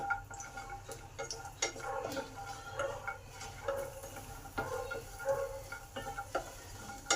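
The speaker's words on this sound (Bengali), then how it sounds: "এবার বড়িগুলোকে ভালো করে ভেজে নেব।" Dried lentil dumplings (bori) fry in oil in a pan with a soft, quiet sizzle, broken by repeated light clinks and scrapes of a utensil stirring them.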